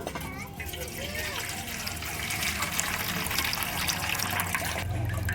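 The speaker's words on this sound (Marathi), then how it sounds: "आता याच्यातलं पाणी काढून घेतो" Soaking water is drained off rice in a home kitchen, a continuous splashing trickle that builds slightly louder toward the end, with voices in the background.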